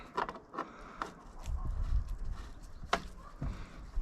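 A bicycle bottom bracket is threaded in with an SPL-118 tool, sounding as scattered metallic clicks, ratcheting ticks and scraping knocks at close range, fairly quiet with pauses between bursts.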